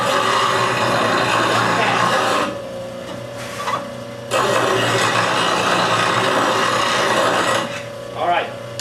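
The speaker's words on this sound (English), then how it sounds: "this is my sharpening setup. This is the ball ring jig." A woodturning tool being sharpened against a grinding wheel on a ball ring jig, heard as a loud, steady rasping grind in two long bursts with a brief quieter gap between them and a short scrape near the end.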